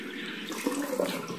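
Water running steadily from a cold tap while a makeup brush is rinsed under it, a close, continuous splashing rush with no talk.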